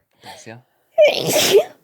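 A short breathy intake followed by one loud, explosive sneeze, close to the microphone.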